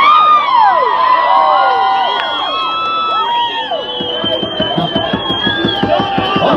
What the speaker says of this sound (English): this group's really, really cool on the drums until they start cheering